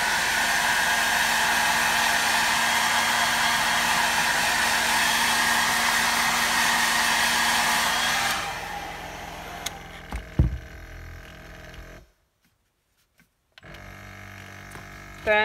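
A heat gun blows a loud, steady hiss while setting paint on a swim bait fishing lure, then cuts off, leaving small clicks and handling noises and a brief silence.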